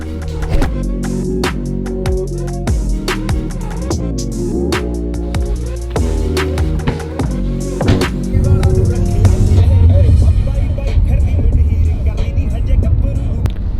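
Inside a moving Audi car, loud music with a pounding beat plays at first, then a low steady road and engine rumble comes through more clearly toward the end.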